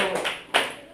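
Two quick hand claps sound close by, sharp and bright, with a short pause between them and nothing else around.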